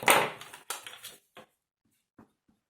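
Paper being cut for a handmade wedding album: a near crisp snip and rustle at the start, then a few short, fainter cuts spaced out amid near silence.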